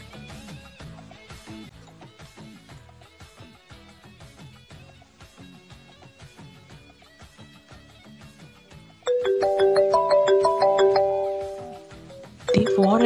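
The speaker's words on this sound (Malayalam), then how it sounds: "ഡീ ഫോൺ അടിക്കുന്ന കണ്ടില്ലേ," A phone ringtone chimes out in a home, a melodic tone that starts abruptly and rings loudly for several seconds after a stretch of quieter background music.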